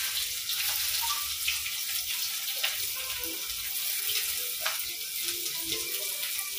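Chopped onions frying in hot oil with cumin in a pan, a steady close hiss and sizzle with scattered crackles throughout, no voices.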